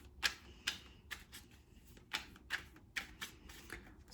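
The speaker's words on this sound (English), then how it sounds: "Let's go ahead and draw our cards for March for you" Tarot oracle cards being drawn and laid down for a reading: about ten soft, quiet taps and flicks land in an uneven rhythm, close by, with no talking.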